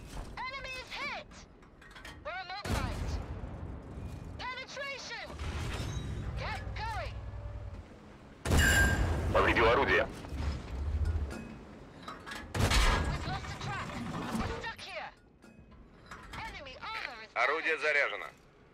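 Tank cannon fire from a Black Prince tank in a video game: two loud, heavy booms stand out over rumbling game sounds, mechanical noise and spoken voice lines.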